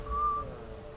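A close, thin whistled tone in the video game Dishonored 2, held for a short moment above a low ambient hum with no talk.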